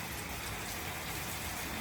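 Monsoon rain falls as a steady, dense hiss, close and constant without a break.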